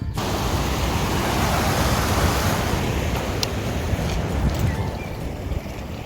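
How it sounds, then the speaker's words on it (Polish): Several small waterfalls tumble one after another along a mountain stream near a campsite in Brenna, Poland, giving a dense, constant rushing of water that fills the whole stretch without letting up. "Ale tych wodospadzików to tu jest jeden za drugim."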